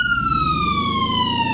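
A police car siren in the Roblox driving game Southwest Florida wails steadily as one long falling tone, loud and continuous, with no talk over it.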